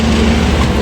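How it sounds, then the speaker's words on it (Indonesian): The Ranggajati passenger train rumbles past close by near Surabaya Kota station, a steady loud drone with a low hum throughout, no voices. "Kita akan menyeberangi kereta api Ranggajati."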